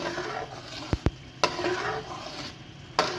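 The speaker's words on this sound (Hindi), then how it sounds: "चम्मच आपने हिलाते रहना है, चम्मच नहीं रोकना।" A spoon keeps stirring thick egg halwa, made with milk and egg, in a pan. Several sharp clicks and scrapes of the spoon against the metal rise over a low, steady sizzle, with no voices.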